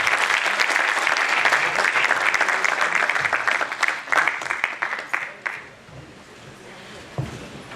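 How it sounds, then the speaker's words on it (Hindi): Loud, dense applause from a seminar audience welcoming a speaker to the stage, sustained for several seconds before thinning out and fading to a quiet room. "जोरदार तालियों से please Jagdish Sharma ji, please sir"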